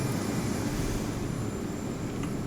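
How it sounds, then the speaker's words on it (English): Aircraft taxiing and taking off in the naval warfare game Sea Power, a steady, dense engine roar that stays loud and unbroken throughout with no talk over it. "you see the aircraft just lining up, taxiing from their parking spots and taking off"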